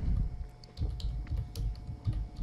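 Keystrokes on a Windows computer keyboard tap out a short run of irregular clicks over a low background hum, close and moderately loud, with no voices.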